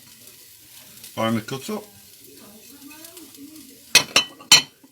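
Chopped garlic and rosemary sprigs sizzle steadily in a pan for sauce, a soft continuous fry under a voice, with a few bright clinks of utensils against the pan near the end.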